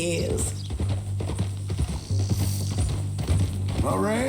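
Horse hooves clip-clop in Red Dead Redemption 2 at a steady walking rhythm, close and clear beneath a voice.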